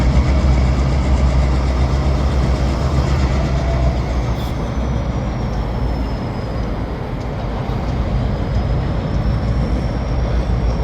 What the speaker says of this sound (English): I can hear all 6 EMDs in unison here.